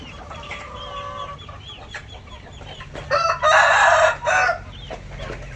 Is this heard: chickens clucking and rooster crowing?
yes